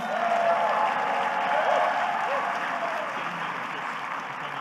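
A crowd at a city address applauds city commissioners, a dense, sustained clapping that swells and then slowly eases off over a few seconds.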